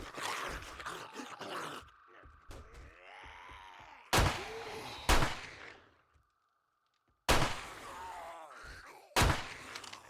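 Pistol shots in the survival game 7 Days to Die, a handful of sharp single cracks spaced seconds apart and separated by quiet stretches and fainter game noises.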